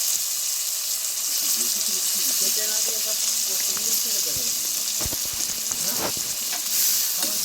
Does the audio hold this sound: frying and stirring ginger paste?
yes